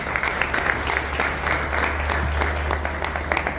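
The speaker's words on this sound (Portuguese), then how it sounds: "Aplauda Jesus bem forte." A church congregation applauds Jesus in a steady, dense burst of clapping over a low steady hum, with no voices rising above it.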